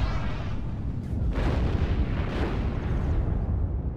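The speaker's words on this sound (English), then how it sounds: "So I'm adjusting those to counter-battery the enemy howitzers. And just listen to them as they fire." Howitzer artillery in the WWII strategy game Steel Division: Normandy 44, a loud, continuous roar of rumbling blasts with a few sharper booms rising out of the dense barrage.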